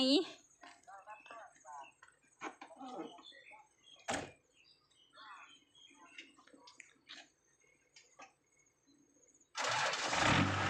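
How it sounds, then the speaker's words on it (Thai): People talk quietly amid faint outdoor sounds and a sharp knock, then an engine cranks and catches near the end, starting with a sudden loud, steady roar. "เรามาลุ้นกันว่าหัวหน้าจะสตาร์ตติดไหม"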